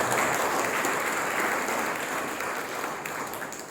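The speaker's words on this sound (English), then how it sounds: "let us give a big applause for these three people" An audience claps for three honored people at a community gathering, a dense, continuous round of applause that holds steady and tapers slightly toward the end.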